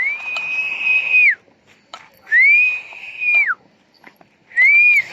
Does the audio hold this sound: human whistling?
yes